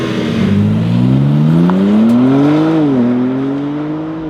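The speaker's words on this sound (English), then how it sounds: "Under the bonnet of the M3 Touring, we've got a 3-litre twin turbo engine pushing out a huge 500 brake horsepower." A 2023 BMW M3 Touring (G81) with a 3-litre twin-turbo engine revs loud and close, its pitch climbing steadily, dipping briefly, then holding at a strong, even drone.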